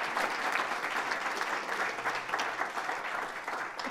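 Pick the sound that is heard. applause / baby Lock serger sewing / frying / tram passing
applause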